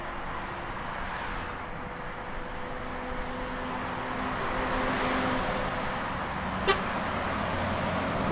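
Steady road traffic rumbles past a roadside gas station, with trucks passing and one short horn toot near the end, continuous and fairly loud.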